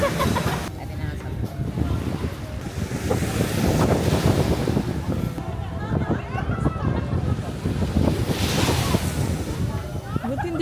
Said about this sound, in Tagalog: Mahangin lang.